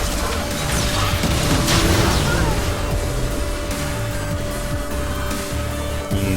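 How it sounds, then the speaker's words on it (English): Jinx fires Hurricane-boosted mini rockets in League of Legends patch 5.24, giving a busy run of mechanical clicks, thumps and small bursts at close range over a steady hum. "Now I have Hurricanes, so I can finally show you the mini rockets, by the way. See, I'm shooting multiple rockets there."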